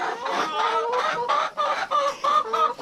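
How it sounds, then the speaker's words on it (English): Backyard homestead chickens cluck and murmur in a rapid, busy stream of short calls, close and fairly loud, with no voices over them. "My chickens stalk me. Here they all come."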